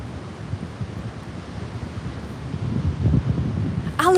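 Blustery wind buffeting the microphone at a sunny beach in Peguera, Mallorca, gusting unevenly and strengthening toward the end, with a brief voice at the close.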